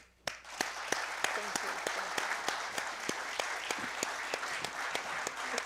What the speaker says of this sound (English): join me in a round of applause for Dorene for her gift of her valuable time